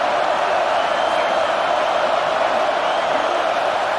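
Steady roar of a stadium crowd in the College Football 26 video game, a continuous dense wash of noise that stays loud and even throughout, with no distinct cheers rising out of it.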